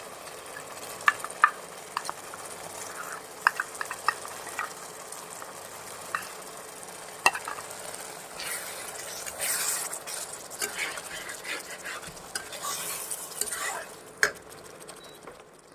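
Mustard paste added to curd in a hot pan, sizzling and frying while a utensil stirs and scrapes, with a steady crackle and occasional clinks, close and continuous.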